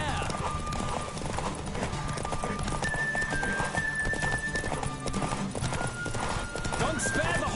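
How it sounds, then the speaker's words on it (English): Hooves pound rhythmically as a horse gallops in a race in the video game The Witcher, steady clip-clop beneath game music and tonal effects, with speech present in the mix. "Don't spare the horse."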